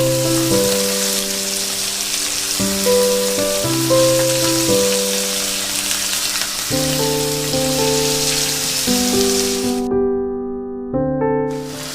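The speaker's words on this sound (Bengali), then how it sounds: "গাজর পেঁয়াজটা যখন একটু হালকা ভাজা ভাজা হয়ে যাবে" Diced carrot and onion fry in a pan for a white sauce pasta, giving a steady, close sizzle throughout with melodic background music layered on top.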